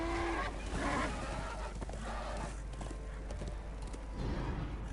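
Despair, the horse in Darksiders, stands in place snorting and whinnying with soft hoof clops, faint and close against a low steady game hum, with no one talking over it.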